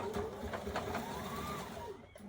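A sewing machine stitches a skirt waistband along the seam, a steady fast whirring hum that runs continuously then slows and stops near the end, with a voice speaking faintly underneath.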